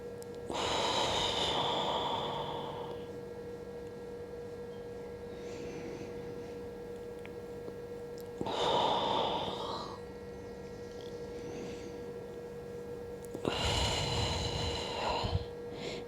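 Slow deep breaths during a floor stretch, heard as three long breath cycles spaced several seconds apart, each rising and easing off, fairly close and quiet over a faint steady hum.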